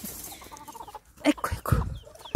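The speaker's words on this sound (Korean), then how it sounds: "엄마 닭 1호도 와서 먹으려고 왔네" A mother hen comes over to eat fish scraps at a farmyard feeding, giving several close, short clucks in an uneven rhythm alongside other chicken sounds, with no talk over them.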